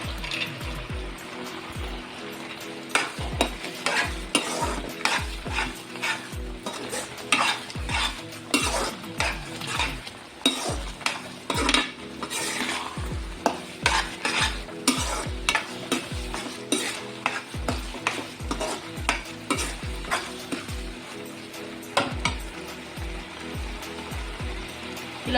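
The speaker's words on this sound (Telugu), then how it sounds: "ఇలా బబుల్స్ వచ్చి ఉడుకుతుంది కదండి" Carrot halwa with fried dry fruits bubbles thickly in a pan while a spoon scrapes and stirs, giving a steady run of close, rhythmic clinks and scrapes over a soft simmer, with no talk.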